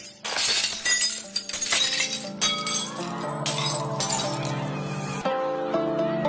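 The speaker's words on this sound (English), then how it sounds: "all the energy in the sound of the singer's voice is transferred to the glass, and it shatters" A wine glass shatters, with a bright crash of breaking glass and tinkling fragments spread over several seconds, mixed with sustained ringing tones.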